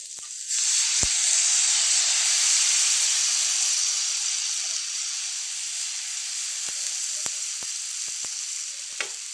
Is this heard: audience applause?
no